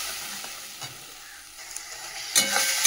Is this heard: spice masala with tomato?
yes